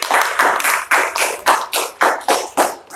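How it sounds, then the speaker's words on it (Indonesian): A small group claps for a participant at an Indonesian talk-style session, a sparse, uneven rhythm of about ten distinct hand claps spaced across a few seconds, close and fairly loud with no talk over it. "Tepuk tangan untuk Karissa."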